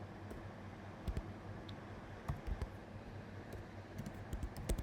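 Typing on a computer keyboard while writing Python code comments, faint scattered clicks in small bursts of two or three keystrokes over a quiet background hiss.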